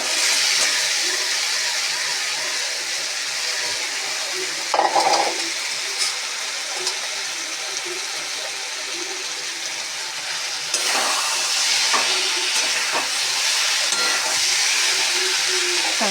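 Potatoes and soybeans sizzling and frying in a pan for an egg and soybean curry, a steady loud hiss with a brief clatter of stirring midway and a renewed surge of sizzle near the end.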